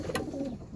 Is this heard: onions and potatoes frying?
no